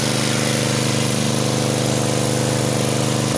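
Small engine running at a concrete fish pond during a water change, a loud, constant droning hum with steady harmonic buzz and no change in pace, close to the listener and alone.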